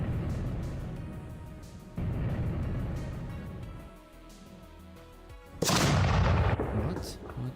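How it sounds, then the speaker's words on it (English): Missiles firing in a game built with Godot, heavy booming launches and rumbling blasts in a few loud surges, the last one sharpest and closest. "Oh, I can go fast. I can shoot missiles."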